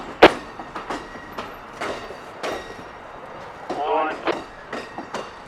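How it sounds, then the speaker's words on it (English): Amtrak's northbound Silver Star passenger train pulls slowly through the wye at Tampa, with rhythmic wheel clicks over rail joints, a brief wheel squeal and rumbling cars, while someone narrates over it. "he pulls the train completely north of the switch at the stem of the Y"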